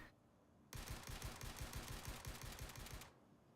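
Rapid automatic gunfire from a weapon in the video game Star Citizen, a loud steady burst of about two and a half seconds fired from the hip, ending abruptly into quiet.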